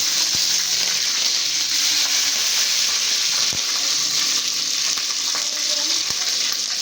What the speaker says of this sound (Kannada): ಎಣ್ಣೆಗೆ ಪಲಾವ್ ಎಲೆ ಹಾಕಿ, ಹಸಿ ಮೆಣಸಿನ್ಕಾಯಿ ಹಾಕಿ